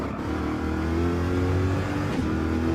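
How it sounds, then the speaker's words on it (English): An LS V8 engine in a race car roars and revs from inside the car, deep and loud, its pitch rising and shifting as it accelerates. "That V8 roaring engine."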